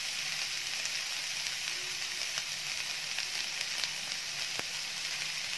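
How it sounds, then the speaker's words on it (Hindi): Mixed vegetables for masala Maggi cooking uncovered in a pan, producing a constant close sizzle with faint crackles and occasional sharper pops. "सब्जियों को खोल कर ही कुक करेंगे।"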